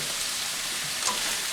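Vegetables for gumbo cook in a pot with a steady, soft sizzling hiss throughout, close by and without talk.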